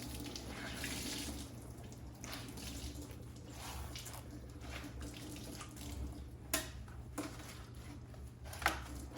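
A soda-ash-soaked Lululemon jacket is wrung out, water splashing and trickling quietly and unevenly with a couple of sharper wet squelches near the end.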